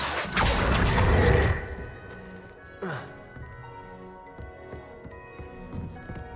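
The Accio summoning spell is cast in Hogwarts Legacy: a loud, rushing magical whoosh is followed by a short swooping zip, then quieter clatter and game ambience.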